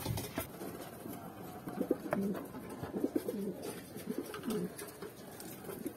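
Pigeons nesting on a tin roof give repeated low, throaty coos in short rolling phrases, close by over a light background hum.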